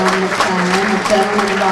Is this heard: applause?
yes